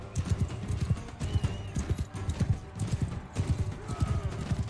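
Horse hooves thudding in a steady galloping rhythm during a jousting bout in the medieval combat game Mount & Blade 2: Bannerlord, loud and continuous throughout.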